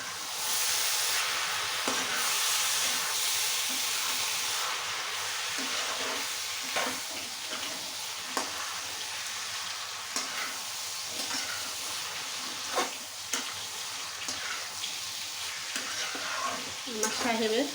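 Cabbage being stirred and fried with hilsa fish head and pre-fried potatoes, a continuous loud sizzle and hiss with repeated scraping strokes of a spatula against the pan.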